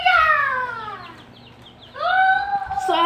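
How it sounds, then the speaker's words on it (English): Chickens in a heated chicken house cluck and squawk in rising, drawn-out calls, loud and close, with a lull in the middle before another burst of calls. "Today I will be showing you my chickens."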